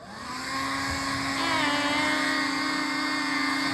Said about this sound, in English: I'm gonna get my blow dryer back out. I like to put it on high.